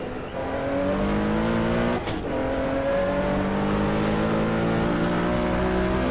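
Race car engine in a 1970 Daytona 24-hour endurance racing video game, a loud steady high-revving drone with climbing gear pulls and a brief shift dip, no talking.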